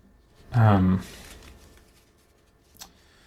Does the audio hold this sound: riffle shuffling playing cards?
yes